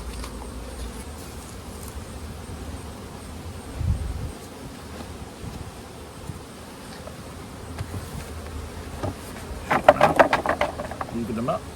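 Honey bees buzzing around hive supers outdoors, a faint, steady hum with light wind and handling noise, rising to a busier, nearer burst of buzzing toward the end.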